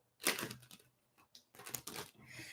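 A deck of tarot cards is shuffled at close range during a psychic reading, giving quiet, crisp riffling and crackling bursts in two short runs separated by a brief pause.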